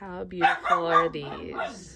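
Bailey, a pet dog, barks briefly in the background while a person speaks excitedly over it.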